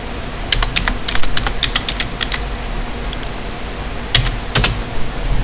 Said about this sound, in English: Now type WordPress